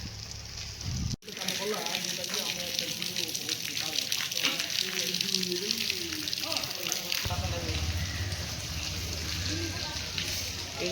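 Steady rain hisses throughout a ride along a canal road near Banapur, a constant wash of noise with voices talking over it.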